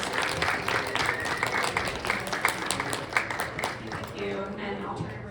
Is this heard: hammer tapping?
no